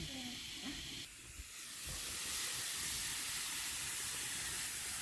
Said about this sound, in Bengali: ভিতরে মাংসটা সিদ্ধ হচ্ছে বন্ধুরা, আওয়াজটা দেখো কেমন হয়েছে